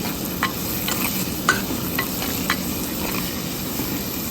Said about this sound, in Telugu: ఈ ఎండు రొయ్యల్ని బాగా వేయించుకోవాలి ముందర